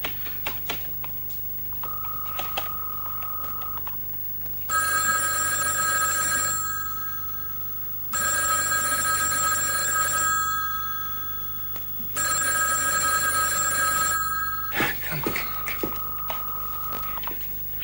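A telephone calling a camp office rings in three long bursts separated by pauses with no answer, fairly loud, with faint background noise and a brief tone before and after.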